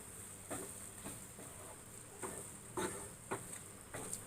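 Masala being stirred into onions and tomatoes in a pan for Chettinad chicken: faint, soft scrapes and light sizzling recur every half second or so, quiet and close, with no talking.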